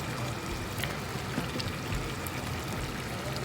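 A steady rushing, pouring sound with a faint trickle, continuous and fairly loud throughout, as carrots and potatoes tumble into a pot of Jamaican curry chicken.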